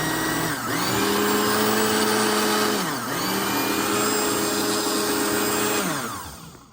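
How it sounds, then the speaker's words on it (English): A household blender runs on power from a 2000W pure sine wave inverter, giving a loud steady motor whine that dips briefly a few times before winding down at the end. "Let's go ahead now and try this blender."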